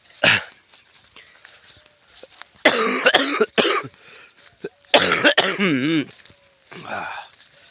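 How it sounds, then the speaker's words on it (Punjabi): Several harsh coughs in separate bursts with pauses between, close and loud, including a throat-clearing rasp near the end. "ਖਾਂਸੀ ਲੱਗੀ ਪਈ ਕੱਲ ਦੀ"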